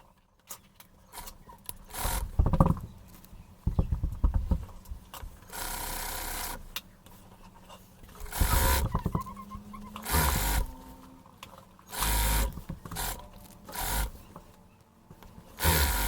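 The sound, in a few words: sewing machine stitching fabric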